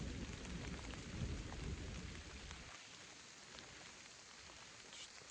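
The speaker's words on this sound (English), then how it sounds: "Thunder and lightning everywhere." A thunderstorm over the Algonquin backcountry brings steady, dense rain and a low rumble of thunder that fades partway through, leaving an even downpour with no voices.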